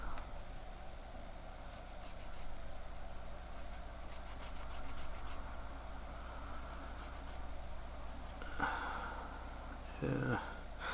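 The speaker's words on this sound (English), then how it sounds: "I'm also going to use the rest of this alcohol wipe, and I'm just gonna, cause you can see some dirt." Close, quiet rubbing and scraping as an alcohol wipe cleans dirt from an Invicta watch case, with soft irregular friction strokes and a few louder scuffs near the end.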